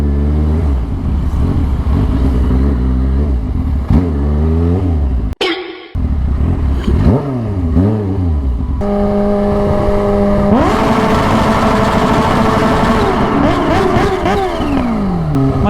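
Kawasaki H2 motorcycle fitted with a titanium exhaust, loud and close, revving hard and accelerating through several gears with rising engine pitch, a brief sharp drop around the middle, then a sustained high-revving pull.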